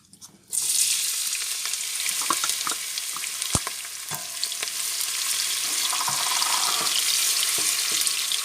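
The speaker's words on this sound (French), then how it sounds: "Voilà, notre huile est chaude. On va commencer par les jeunes oignons." Young onions tipped into hot oil for a quick Congolese-style red bean dish burst into a loud, close sizzle that starts abruptly and holds steady, crackling throughout.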